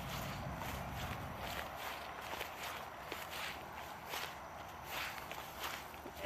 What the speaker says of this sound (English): if you can hear my footsteps, I'm just sogging through the yard.